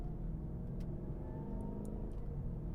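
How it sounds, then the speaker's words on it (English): Mercedes GL 550 twin turbo engine idling at low RPM, a steady low rumble with a faint rising turbo whine and a few light ticks and clicks from nearby, no talking. "You can hear the turbo spool up a little bit even at a low RPM."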